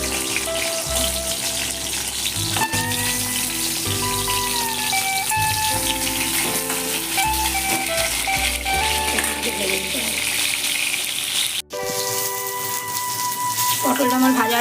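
Pointed gourd (potol) frying in hot oil for a vegetarian potol pasinda, giving a steady close sizzle that runs under prominent background music throughout.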